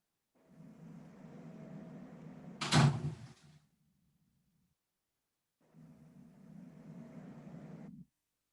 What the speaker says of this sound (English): Please close the door first.